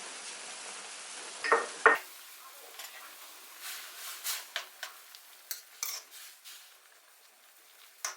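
Glass noodles are stirred into a pot of pork sukiyaki soup, with a couple of sharp utensil clinks against the pot and then soft, irregular scraping and stirring under quiet background sounds.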